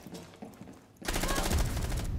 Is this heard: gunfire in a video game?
yes